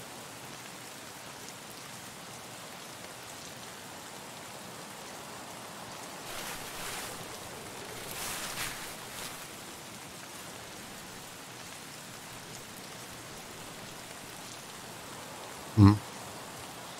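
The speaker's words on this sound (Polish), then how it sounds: "Deszcz doszedł do Customs." Steady rain hisses across a map in Escape from Tarkov, a soft, even wash throughout with a gentle swell midway and one sharp thump near the end.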